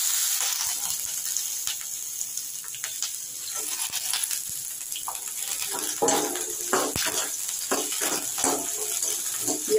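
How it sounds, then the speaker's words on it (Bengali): Chopped onion frying in hot oil in a wok on a high gas flame, crackling and sizzling steadily with scattered sharp clicks and scraping stirs throughout. "এর মধ্যে একটা বড় পেঁয়াজ কুচি দিয়ে দিলাম"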